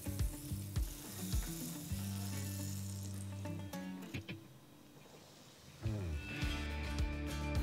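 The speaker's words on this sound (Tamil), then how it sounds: "இதுக்கு கிரில் பேன் சூடு பண்ணி கொஞ்சம் பட்டர் போடுங்க" Butter and a chicken sandwich sizzling on a hot grill pan, a soft, fairly close frying hiss broken by scraping and clinking of a utensil, fading briefly before the sizzle returns louder.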